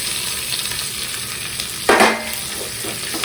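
Onion and capsicum sizzle and fry in a pan for chili chicken, a steady broadband hiss with a louder burst as the vegetables hit the hot oil about two seconds in, close by with no talking.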